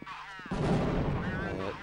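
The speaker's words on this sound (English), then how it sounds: "Nade coming in from Get Right" A grenade detonates during a competitive Counter-Strike 1.6 match: a sudden loud broadband burst of noise after a quieter opening, sustained under a commentator's fast speech.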